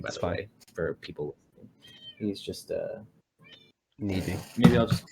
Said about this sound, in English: I'm sorry about the cat meowing